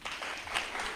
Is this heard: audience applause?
yes